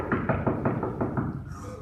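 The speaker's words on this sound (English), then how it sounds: "I heard a knock at the door" Knocking at a door, a steady series of five or six close, even knocks that then stop, with no talk over them.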